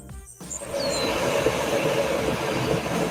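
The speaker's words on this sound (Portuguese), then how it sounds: "Você tem o som do metrô entrando na cena anterior." A subway train arrives in a film scene, its rumbling wheels and faint squeals rising after a brief opening sound cut, then holding a steady loud rolling roar with no voices.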